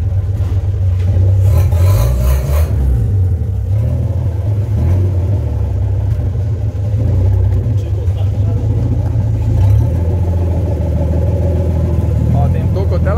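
Chevrolet C10 truck engine revving hard with a loud, steady low rumble and surging throttle while its tyres spin, close and continuous, with people talking over it.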